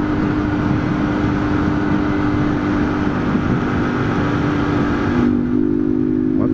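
A Honda Titan motorcycle engine, a new model ridden in São Paulo, holds a loud, close, steady drone that eases slightly after about five seconds, with no speech.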